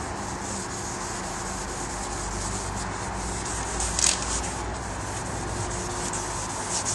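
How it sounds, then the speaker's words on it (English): A car headlight lens being wet sanded by hand with 1000 grit sandpaper to strip yellow oxidation: close, steady rhythmic rubbing and scrubbing strokes with a gritty, damp rasp, continuous throughout with one slightly louder stroke midway, no voices. "Using a 1000 grit sandpaper, we're going to remove the oxidation"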